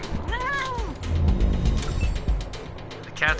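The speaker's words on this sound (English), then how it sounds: "Hey, look, the cat's attacking." A cat yowls and caterwauls as it attacks in the Wasteland 3 video game, with a rising meow at the start and a short squeal at the end over thuds and combat noise.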